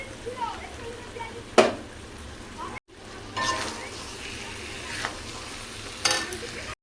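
Chicken is stir-fried in a pan with cashew and poppy seed paste, a loud sizzle under scraping stirs with a couple of sharp metallic clinks and a brief break in the sound.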